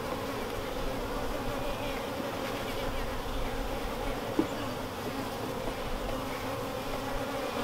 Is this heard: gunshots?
no